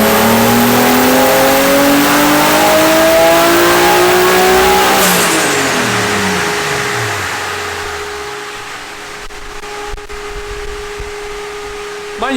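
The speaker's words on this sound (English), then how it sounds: "doing a little rip, it drives pretty good." A cheap, rusty turbocharged BMW E36 drift car revs hard while driving, the loud engine note climbing and then sweeping down as it backs off, fading into a quieter steady drone.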